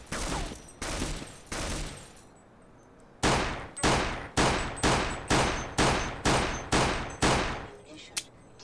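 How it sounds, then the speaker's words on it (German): Repeated pistol shots in the video game Half-Life C.A.G.E.D, three loud shots followed by a pause, then a steady run of about nine evenly spaced, sharp, close shots, each with a short decaying tail. "Nehmen wir mal die Pistole."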